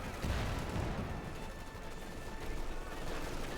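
Machine gun fire from a Company of Heroes 2 battle, Wehrmacht against US Forces, a dense continuous rattle of distant gunfire with explosions and combat noise that stays steady throughout.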